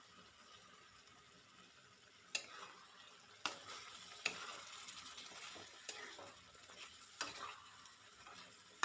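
Chicken curry with coriander and garam masala powder is stirred in a pan, giving a soft, faint sizzle broken by several sharp scraping clinks of the spoon against the pot.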